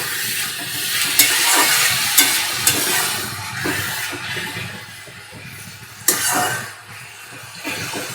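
Radish greens and garlic stir-fried over a high gas flame, with a continuous close sizzle and hiss and periodic sharp clacks of the spatula being tossed and stirred, no talking.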